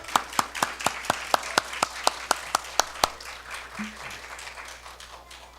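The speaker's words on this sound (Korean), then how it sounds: "우리 전도사님 나오실 때 우리 박수로 우리 한번 우리 환영하겠습니다" Applause from a church congregation welcoming a preacher: a run of a dozen or so crisp, evenly spaced claps, sounding like one or a few people nearby, that stops after about three seconds and leaves quieter, scattered room noise.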